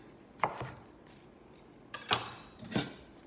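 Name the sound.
knife chopping off the root end of a leek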